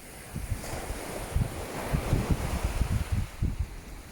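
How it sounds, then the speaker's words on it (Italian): Sea waves wash onto a beach on the west coast of Sardinia, a steady surf roar with irregular breaking rushes, close and moderately loud, with wind noise on the microphone and no talk. "sentite il rumore del mare, cosa vi ricorda?"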